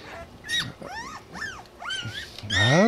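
Newborn one-day-old puppies squeal and whimper near their mother dog, a few high rising and falling cries close by, ending in a louder yelp with a low growl-like note.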